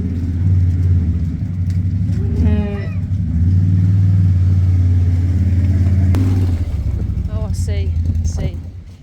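A motorbike engine rumbles steadily nearby on a cattle farm, rising and revving throughout, with a few brief higher tones cutting in partway through.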